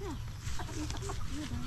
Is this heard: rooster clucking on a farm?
yes